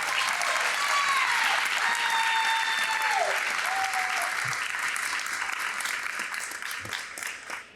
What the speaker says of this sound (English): Once again, let's give Joseph a big round of applause